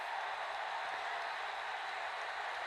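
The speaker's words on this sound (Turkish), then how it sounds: "Alkışlıyor bizim kaleci" Steady, even applause rises from a PES football match after a goal, a continuous hiss of clapping held at a moderate, distant level without breaks.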